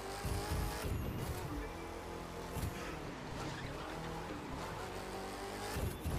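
A TVR Griffith sports car drives in The Crew 2 racing game, its engine a loud, steady roar with rising and falling revs and occasional tyre noise throughout.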